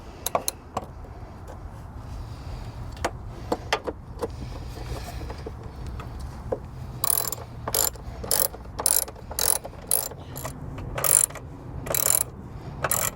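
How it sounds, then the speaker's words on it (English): A hand ratchet clicks as it tightens down the battery hold-down on an Acura MDX. Scattered single clicks come first, then a run of loud, rapid ratcheting bursts close to the microphone. "Now we can go ahead and start tightening it down."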